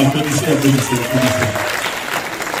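A church congregation at a special couples' day service claps together, the applause mixed with voices calling out over it.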